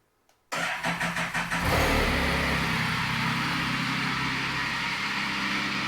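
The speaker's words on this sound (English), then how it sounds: "I will turn on the bike." A Can-Am Spyder RT three-wheel motorcycle engine cranks in a quick run of pulsing turns, then catches and settles into a steady, loud idle close by.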